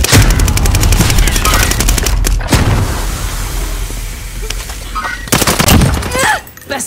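Dense, rapid gunfire from a Call of Duty: Modern Warfare match, with bursts of automatic fire and heavy booms throughout, loud and close, punctuated by sharp louder shots near the end.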